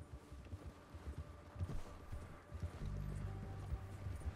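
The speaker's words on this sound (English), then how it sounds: "My horse ran out of stamina." Steady clip-clop of horse hooves at a galloping pace in the game Red Dead Redemption II, close and continuous, with a low rumble and a faint whinny-like tone in the background.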